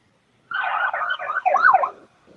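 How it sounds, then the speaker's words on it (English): A short police car siren burst, a rising and falling electronic wail lasting about a second and a half, loud and near with no talk over it. "I hear the siren and a bunch of engine revving"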